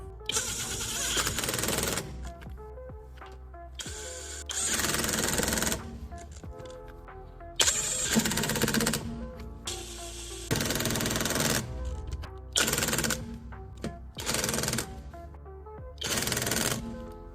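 A power tool on its first setting tightens the rear shock absorber nut on a Hyundai Accent Era, running in loud repeated bursts with a steady buzzing, rattling tone and short pauses between them.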